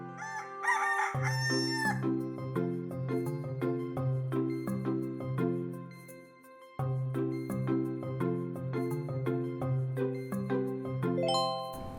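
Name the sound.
rooster crowing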